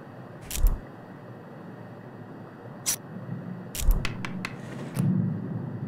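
Scissors snip in a haunted-morgue horror video game, heard as a few sharp metallic clicks, one, then another, then a short quick cluster, over a low steady ambient hum without talk.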